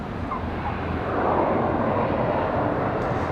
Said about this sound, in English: That plane was so quiet you could hear the tires touch down on that.